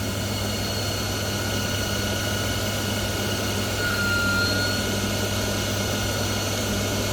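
A lathe motor spins up toward about 2000 rpm, a steady loud machine hum with constant low drone and broadband whir, holding level throughout with a slight swell near the middle, no voices.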